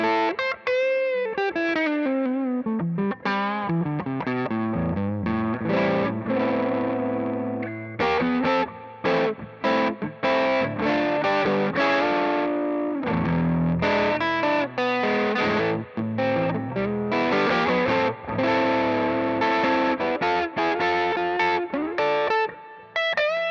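A heavily distorted electric guitar plays chords and riffs through a VP4 effects unit, with a thick, saturated, chorused tone ringing out continuously and loud.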